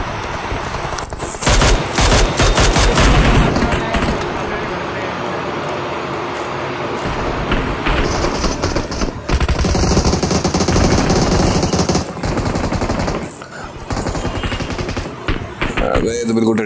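Loud, sustained bursts of automatic gunfire from a weapon picked up in a video game, rattling near and close with dense rapid volleys and short pauses throughout, with voices talking underneath.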